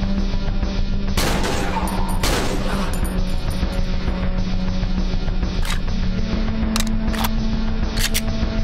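Gunfire in the horror video game Cry Of Fear: several sharp, loud shots ring out over a constant low droning game ambience, spaced irregularly across the stretch with some quick bursts toward the end.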